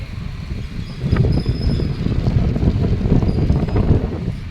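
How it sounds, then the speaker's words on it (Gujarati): Strong cold wind gusts buffet the microphone outdoors, a continuous low rumbling roar that grows stronger after the first second. "ઠંડો પવન પણ બહુ જ છે, ઠંડી લાગવા માંડી એવો મસ્ત પવન છે"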